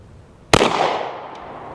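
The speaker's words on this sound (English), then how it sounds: "Let's go ahead and shoot that at right-hand side." A single sharp, loud Canik TP9SF 9mm pistol shot at an outdoor range, an abrupt crack followed by a decaying echo tail.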